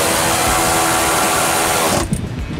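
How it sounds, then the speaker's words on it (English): An electric power tool whirs loudly and steadily while tightening bumper bolts on a Freightliner truck, then cuts off abruptly near the end. "I'm gonna use my electric tool on the right side"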